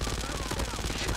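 Rapid automatic gunfire from a newly released weapon, the Hades, in a first-person shooter match, sounding as a dense continuous stream of shots with a faint voice underneath.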